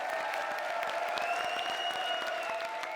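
Sustained applause from a comedy show studio audience welcoming a comedian onto the stage, a steady even wash of clapping with a faint tonal music bed running underneath.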